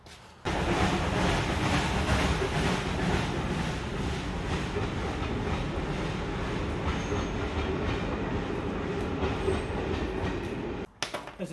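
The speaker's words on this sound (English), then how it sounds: "We can hear a train coming." A train passes nearby, a steady loud rumble with rhythmic clickety-clack of wheels on rails that holds for about ten seconds before cutting off abruptly.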